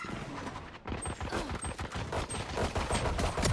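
Rapid pistol gunfire from a VALORANT match, dense overlapping shots and impacts continuing throughout at close range with no talking.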